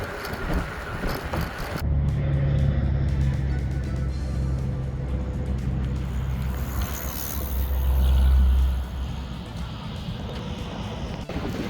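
Road traffic passes beyond a hefty cement barrier beside a bike trail near the Colorado River in Moab, Utah: a steady low rumble that swells briefly near the end, with wind noise throughout.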